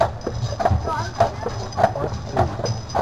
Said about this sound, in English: No, horses.